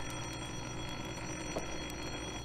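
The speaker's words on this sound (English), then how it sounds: "Well, there's the phone now." Telephone ringing in an old suspense radio drama: a continuous bell-like ring sustained steadily over a broadcast hiss, fairly loud and unbroken for the whole short stretch, with no voices.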